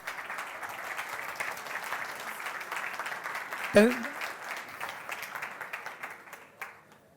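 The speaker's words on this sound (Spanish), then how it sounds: "aplausos para Claudia" Audience applause for Claudia at a quality-strategy talk on teams, a steady patter of clapping from a crowd that swells briefly near the middle, then tapers off with a few scattered claps.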